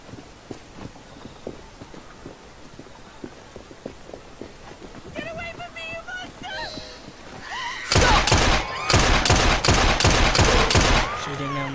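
Rapid bursts of gunfire ring out loud and close in a Victorian London street scene of Assassin's Creed Syndicate, starting around the eighth second in a fast string of shots, after a stretch of hoofbeats and rumbling carriage noise.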